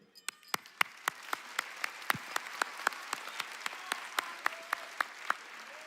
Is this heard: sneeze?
no